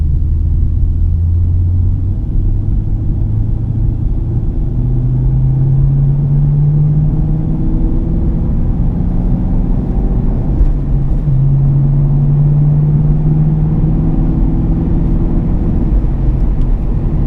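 A car with a stick shift being driven in third gear around a corner, giving a loud, continuous low engine drone inside the cabin whose pitch rises and falls gently.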